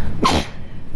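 One short, sharp sneeze bursts out close by, a quick explosive rush of breath and voice lasting a fraction of a second.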